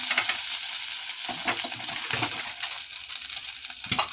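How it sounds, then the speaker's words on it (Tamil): Urad dal vada frying in hot oil gives a steady close sizzle with scattered pops and bubbling, no talking. "இப்போ இதில் நம்ம வடை சுட்டலாம்."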